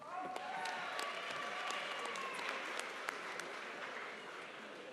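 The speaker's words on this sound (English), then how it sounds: "Join us in a round of applause for all of the degree candidates from the Department of Early Childhood and Elementary Education" Applause from an audience fills a fall graduate commencement ceremony for education degree candidates, a dense, steady wash of many hands clapping at moderate distance, with voices faintly mixed in.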